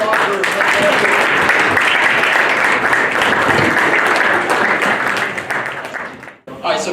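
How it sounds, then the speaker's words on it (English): Full audience applause at a basement systems company symposium, loud and continuous, with voices mixed in beneath the clapping, tapering off near the end before a brief cut. "Round of applause for"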